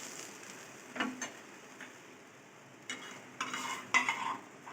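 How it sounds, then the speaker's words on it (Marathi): Naan crisps on a hot pan with ghee or butter, giving a quiet sizzle broken by several scraping spatula strokes and light clinks, close by and with no talking. "आता आपण याला छानसं दोघीकडनं खरपूस भाजून घेऊया."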